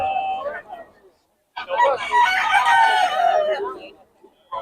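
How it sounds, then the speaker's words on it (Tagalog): A rooster crows loudly and close by in Bocaue, one long drawn-out call, with a few shorter bird or voice sounds just before it. "Nakakatawa ni manok ni Boss Chato"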